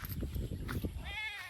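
Goat on a Filipino farm bleating in a wavering, quivering call near the end, after a stretch of footsteps, rustling and farmyard movement.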